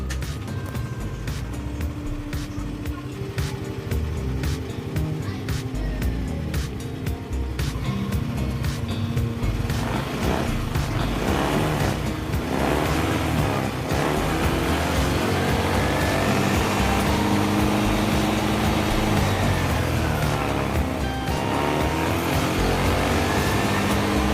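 A Yamaha Aerox scooter engine runs after the ignition is switched on, a steady loud motor drone that swells and grows rougher in the second half, with no voices.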